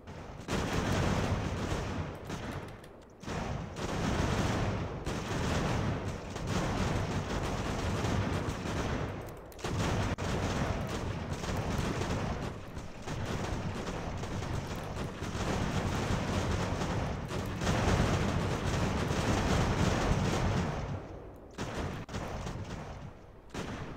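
Musket gunfire and artillery in Ultimate General: American Revolution, a battlefield strategy game, roar as a dense, continuous barrage of overlapping shots and booms with a windy rumble, dipping only briefly a few times.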